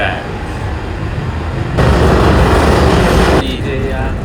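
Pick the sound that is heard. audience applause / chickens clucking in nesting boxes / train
train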